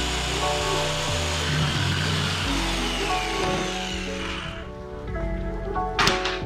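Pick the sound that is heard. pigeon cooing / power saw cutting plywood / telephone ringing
power saw cutting plywood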